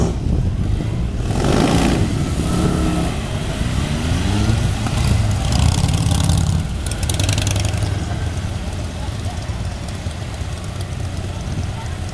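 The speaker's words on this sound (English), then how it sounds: "All blokes like to open up the throttle a lot for the flying cross." Several motorcycles from a riding display team roar through a flying cross manoeuvre, engines loud and close with throttles opened up, revs rising and falling as bikes pass, under a steady wash of engine noise.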